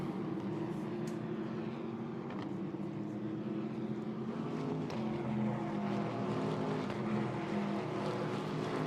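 Ginetta GT race cars racing at Snetterton, a steady distant drone of engines that rises and falls as cars pass, with no speech over it.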